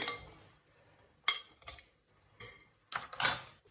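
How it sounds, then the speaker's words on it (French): Utensils mixing potato salad in a bowl, with a few separate bursts of metal clinks and scrapes broken by short quiet pauses, close and fairly loud. "je vais mélanger l'ensemble"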